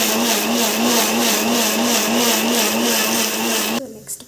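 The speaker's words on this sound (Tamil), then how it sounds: "தேங்காய் அரைச்சி ஊற்றிக்கலாம்." A blender grinds coconut at high speed, a loud, steady whirring roar with a pulsing hum that cuts off abruptly near the end, followed by a few faint rattles.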